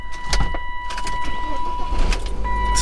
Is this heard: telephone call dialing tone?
no